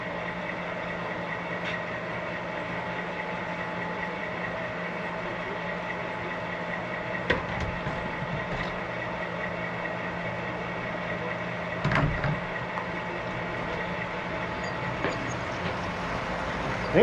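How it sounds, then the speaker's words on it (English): Four model trains run on a home layout, a steady low rumble with rhythmic clicking of wheels over track joints and a few sharper clacks, with no talk. "So gonna have 4 trains running."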